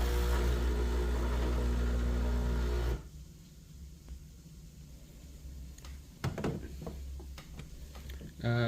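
A loud mechanical hum from an espresso machine runs for a few seconds then cuts off abruptly, followed by quieter clicks and clatter of handling equipment.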